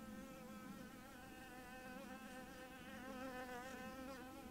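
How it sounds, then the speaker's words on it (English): A bee buzzes steadily and continuously close by, a faint, even drone with slight wavering pitch and no talk over it. "are you not a wasp? You're a bee."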